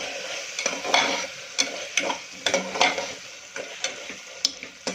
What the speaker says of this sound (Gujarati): હવે આને આપણે સારી રીતે મિક્સ કરી દઈશું.